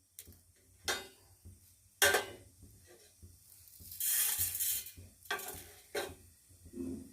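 Mustard seeds crackle and sizzle in hot oil in a pan, with quiet popping bursts and light stirring clatter, faint and close.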